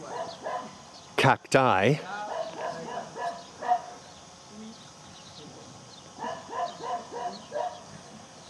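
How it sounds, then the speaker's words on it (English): Dogs bark in quick repeated runs of yips at a rural villa with stables in Marchena, Sevilla. The barking comes in two bursts at moderate distance, with a brief voice heard. "without the barking dogs that we've heard"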